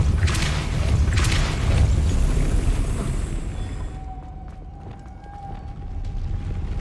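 A Depulso spell cast in the Hogwarts Legacy video game lands as a loud booming burst with a rushing whoosh, fading into a quieter low rumble with faint tonal hum afterward.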